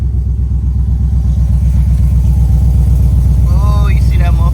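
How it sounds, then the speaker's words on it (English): An E85-tuned Chevy Tahoe with a Velocity Performance muffler idles steadily after a cold start, a loud, even, throbbing exhaust rumble throughout, with a brief voice chirping in near the end. "Cold start on the Tahoe, on the hoe."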